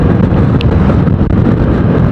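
Strong side wind buffets the rider of a Yamaha XMAX scooter on an open road, a steady, loud, rumbling roar that fills the whole stretch without a break.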